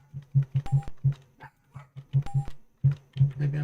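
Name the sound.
dog barking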